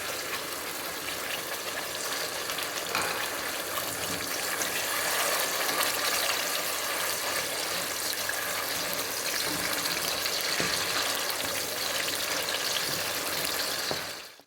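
Ground onion paste fries in hot oil with a loud, dense, steady sizzle that fills the whole stretch without pause.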